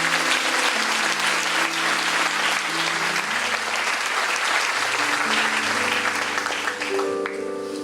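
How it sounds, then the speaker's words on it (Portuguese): A church congregation breaks into loud, continuous applause, a dense wall of clapping with sustained musical tones underneath that shift pitch throughout. "Aplauda o Senhor."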